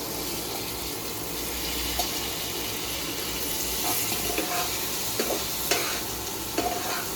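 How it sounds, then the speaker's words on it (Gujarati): Vegetables hit a pan of sizzling cumin and spices, giving a steady frying hiss with occasional clinks and scrapes of stirring, close and continuous, no talking. "હવે એમાં આપણે હળગો નાખી દઈએ"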